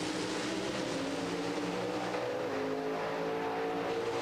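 NHRA drag race car from the 1994 Winternationals, roaring at full throttle down the strip and climbing in pitch through its gear changes, loud and continuous with no talk.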